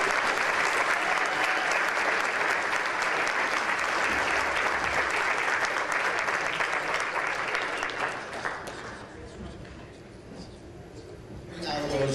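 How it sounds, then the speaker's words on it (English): Sustained applause from an audience at an award evening recognizing Erica goes on for about eight seconds, then drops off while a few scattered claps and voices linger. "Another round of applause, please, for Erica."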